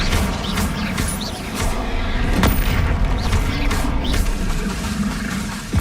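A Flipendo spell cast in a Harry Potter video game: a dull booming impact bursts out partway through, over a constant dense wash of game noise and rumble.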